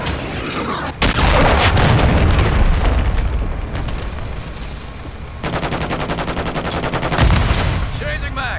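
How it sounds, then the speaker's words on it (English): Call of Duty: Modern Warfare battle with a cruise missile strike amid heavy gunfire, loud and continuous bursts with booming impacts, voice chatter mixed underneath. "Friendly cruise missile approaching target."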